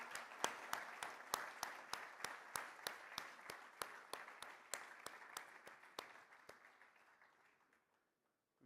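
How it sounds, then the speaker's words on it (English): At the 3rd Pakistan Remittance Summit 2023, the audience gives the summit coordinators a round of applause: sharp, evenly timed claps in a steady rhythm that gradually thin out and fade to silence. "So please, a big round of applause for all the coordinators."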